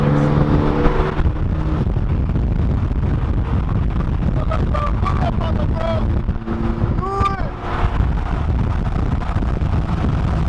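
Car accelerating hard during a street race, a loud, close engine roar with wind buffeting over it, and voices talk briefly over the noise.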